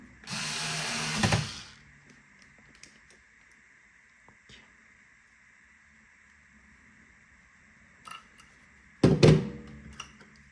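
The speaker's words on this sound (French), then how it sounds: "on va remettre nos deux vis à tête ronde" Two round-head screws being driven back into a PS4 console, a brief burst of tool whirring at the start, faint clicks in between, and another short mechanical burst near the end, quiet otherwise.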